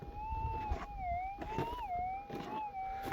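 A metal detector gives a steady electronic tone over a deep target in the bush, a clear warbling pitch that dips and rises as the coil moves, with faint rustling underneath.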